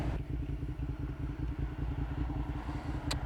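A Suzuki SV 650 motorcycle engine runs steadily nearby, its low, throbbing pulses loud and even throughout, with a brief sharp tick near the end.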